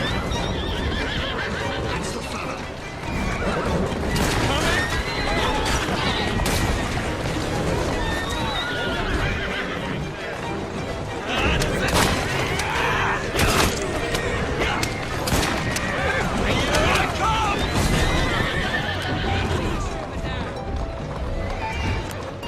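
Horse-drawn carriages in the Assassin's Creed Syndicate video game, with horses neighing and whinnying over steady clip-clopping hooves and rolling wheels, a loud continuous bustle with occasional thuds and voices talking throughout.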